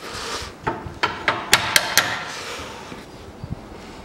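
A hammer strikes a chisel to knock the outer bearing race off a front wheel hub on a 2010 Chery Amulet 1.6, giving a run of sharp metallic blows, close and loud, spaced irregularly with a couple of fainter taps afterward.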